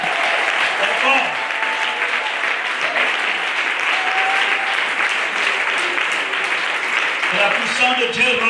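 A church congregation applauding, dense sustained clapping that fills the whole stretch at close, loud level, with voices mixed in underneath.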